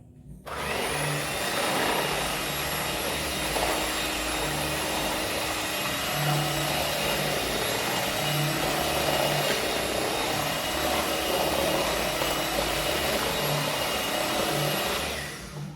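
An electric mixer whirs continuously through carrot cake batter with cooking oil, a loud steady motor whine that starts abruptly and runs unbroken, close and alone without voices.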